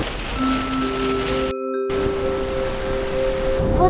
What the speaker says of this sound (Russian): Просто заехали в местность, где тучи, где дождь идет.